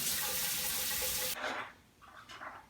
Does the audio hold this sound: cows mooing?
no